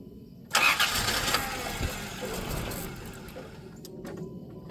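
A 1993 Plymouth Grand Voyager SE, sitting unused for 18 years and fitted with new fuel injectors, cranks and catches abruptly, then settles into a quiet, slightly uneven idle with faint clicks nearby; no voices.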